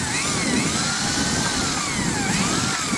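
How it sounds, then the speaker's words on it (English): A handheld drill fitted with lawnmower blades churns paper pulp for homemade paper logs, a loud, steady whirring motor with slight pitch wavers as the load shifts, continuous for the whole stretch. "then that will attach to my drill, and then we'll use that to mix everything together"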